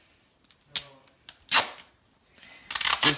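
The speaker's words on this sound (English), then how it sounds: "then tape it on" Adhesive tape is pulled and pressed onto a homemade paper sword on a low desk: a handful of short, sharp ripping crackles in uneven bursts, close and fairly loud, with quiet gaps between and no talking.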